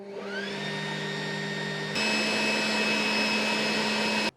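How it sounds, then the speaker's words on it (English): A Ryobi 40-volt leaf blower runs close and loud, a steady whine and rushing airflow that steps up to a higher, stronger speed partway through before cutting off at the end. "I got my Ryobi 40-volt leaf blower out, and we're going to use it and see what kind of decibel reading it can produce"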